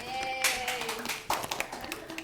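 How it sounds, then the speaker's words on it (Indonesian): Classmates give scattered applause after a group presentation in a biology class, a few soft, uneven claps over a faint murmur of voices. "Beri tepuk tangan buat teman-temannya."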